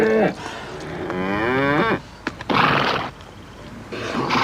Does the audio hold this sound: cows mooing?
yes